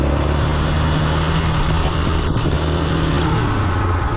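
Motorcycle engine held at a steady, loud drone with constant throttle, a continuous near low rumble that barely varies over the few seconds, no clear rev spikes as the clutch is worked for a wheelie.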